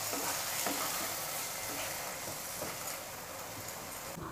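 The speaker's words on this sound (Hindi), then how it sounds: "अच्छी तरह से मिक्स करना है।" Egg curry ingredients sizzle in a pan as they are stirred and mixed, a dense, steady frying hiss with faint scraping strokes throughout, close and unaccompanied by speech.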